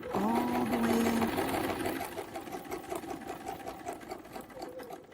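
A sewing machine stitches a quilt panel with a rapid mechanical chatter that starts loud and eases into a steadier, slightly quieter run, close to the listener.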